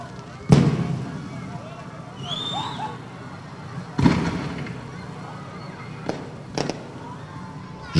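Fireworks bursts at a Christmas opening event in front of a city hall, a few loud booms and crackles spaced seconds apart, with distant crowd noise and a voice talking between the blasts.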